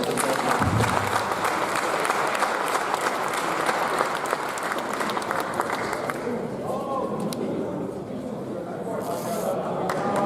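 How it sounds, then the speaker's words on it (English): Crowd applauding a baseball team at a team introduction and hall of fame event, sustained clapping and cheering that slowly thins out, with voices murmuring underneath. "give these guys a round of applause."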